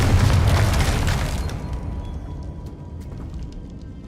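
A fiery Confringo spell blast from the video game Hogwarts Legacy booms loudly at the start, then a rumbling, crackling tail fades away over a few seconds.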